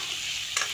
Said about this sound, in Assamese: ভাজি ল'লোঁ অকণমান।